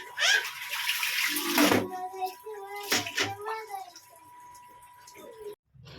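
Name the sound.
washing clothes with water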